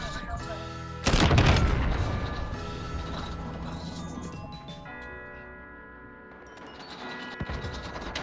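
Gunfire from Call of Duty: Modern Warfare in the Cranked Christmas multiplayer mode, with a loud shot burst near the start and then mechanical clicking and ticking from weapon handling, and quieter shots trailing after.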